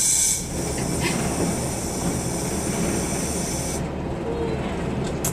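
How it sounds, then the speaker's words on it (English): A train pulling into its terminus at Shenton, heard from inside the driver's cab as a steady broadband rumble and hiss of wheels and running gear with a high whine, continuous and close throughout. "This train terminates here."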